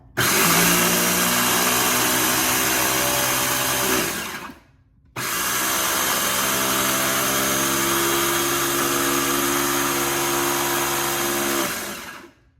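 A small one-speed electric grinder whirs loudly through dehydrated green onions in two steady bursts of about four and seven seconds, split by a brief pause, with a constant motor hum and no talking.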